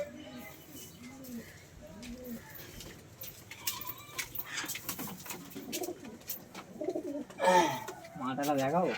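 Domestic pigeons coo in low, rounded, repeated phrases at close range, mixed with handling noises and people talking nearby, with a louder burst of coos near the end.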